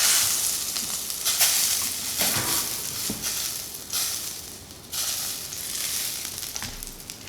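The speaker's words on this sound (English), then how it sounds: "We're gonna baste it for about 30 seconds." Steak sizzles steadily in a pan while it is basted with garlic butter, with louder spitting bursts as the hot butter is spooned over it, close and continuous with no talking.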